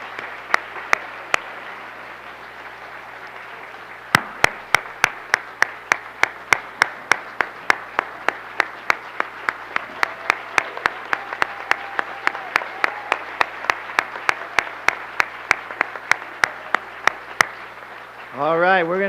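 A school-board crowd applauds its retiring school staff, a steady, moderately loud patter of many hands with sharp individual claps standing out, lasting most of the stretch before tapering off into a brief voice at the end.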